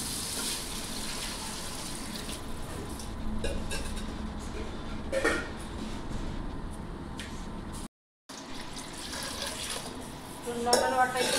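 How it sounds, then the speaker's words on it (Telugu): Water poured from a lota into a cooking pot of rice for biryani, a steady rushing, splashing stream that runs on with one brief break, moderately quiet and close. "దీంట్లో 2 లోటాల వాటర్ అయితే పోసుకుంటున్నాను."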